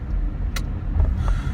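Cabin noise from inside a moving car, a steady low rumble of road and engine with a brief faint click partway through, no talk.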